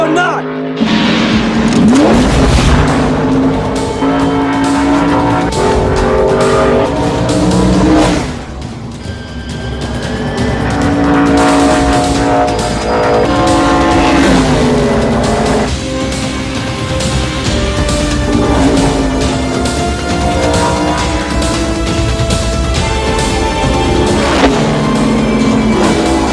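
Race car accelerating at full throttle, a loud, continuous engine roar with rising and shifting tones held across a long stretch, briefly dipping before surging again, mixed with music and voices.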